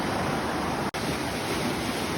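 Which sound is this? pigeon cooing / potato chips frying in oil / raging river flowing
raging river flowing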